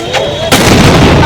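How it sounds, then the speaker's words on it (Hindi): A loud, sudden blast erupts during a street riot in Uttar Pradesh, India, leaving a dense roaring wash of noise, heard close by. "देखिए विस्फोट होगा उसमें।"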